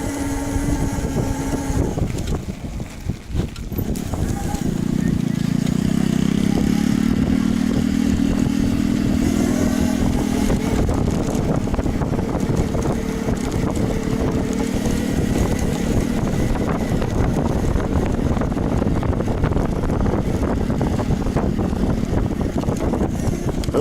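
A homemade electric scooter cruising near 56.7 mph gives a motor whine that rises and then holds steady, buried in heavy, constant wind rush and road clatter.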